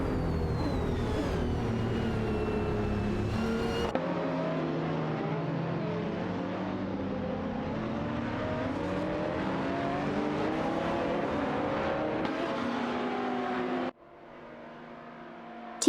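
Race cars including a Nissan 350Z GT300 and an Aston Martin DBRS 9 roar together in a video game race, a steady dense engine drone with shifting pitch that drops abruptly to a quieter tone near the end.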